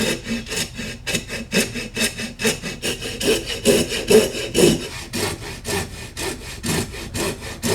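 Hand-sawing through material for a MacBook Pro cooling mod: steady, rhythmic back-and-forth saw strokes, close and loud, with no voices.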